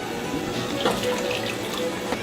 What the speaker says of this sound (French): Je rince un peu de fond de bœuf.